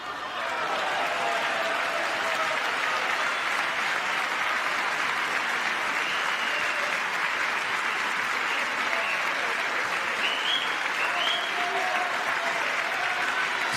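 A political crowd applauds steadily and loudly, a dense, even wash of many hands clapping that holds for the full stretch, with faint cheers rising in places.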